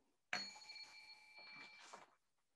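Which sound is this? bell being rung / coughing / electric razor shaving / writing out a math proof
bell being rung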